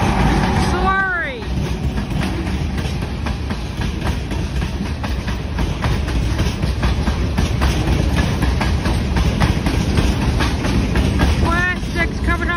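An eastbound Norfolk Southern freight train of boxcars rolls past up close, a loud continuous rumble with steady clickety-clack of wheels over rail joints and brief squealing near the start and end.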